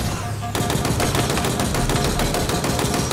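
Sustained automatic gunfire in Halo Infinite, played on Legendary difficulty on Xbox Series X. A quieter lead-in is followed by loud, rapid, continuous shots in a steady rhythm, with no voices.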